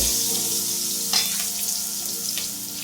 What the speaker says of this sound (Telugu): ఇప్పుడు వంకాయలు మధ్య మధ్యలో ఇలా ఫ్రై చేస్తూ ఉండాలి